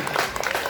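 Brief burst of clapping from students and teachers in an Indonesian school assembly hall, a short dense patter of many hands, fairly close.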